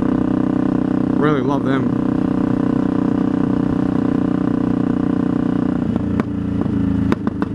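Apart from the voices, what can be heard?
motorcycle engine with Delkevic exhaust pipes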